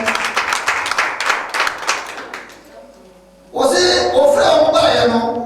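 A church congregation in France breaks into applause, first loud rhythmic clapping, then a brief lull before mixed cheering voices and clapping surge back in.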